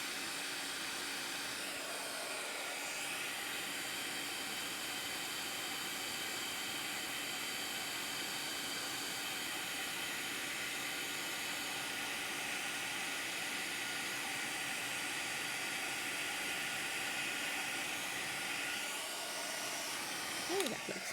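Heat embossing tool melting embossing powder on a Whimsy Stamps warm-wishes greeting card, a steady loud airy whoosh blowing continuously for about twenty seconds with no talk.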